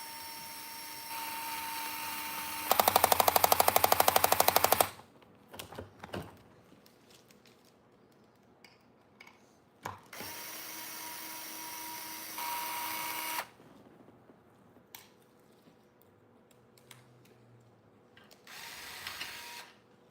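A power driver whirs loudly in two separate bursts while bolts are unscrewed from a Sledge combat robot being upgraded, with clicks, taps and handling noises between the bursts in an otherwise quiet room.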